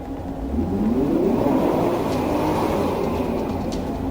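Engine of an Infiniti car revving steadily at a Florida police traffic stop, a loud sustained roar that swells and holds without letting up.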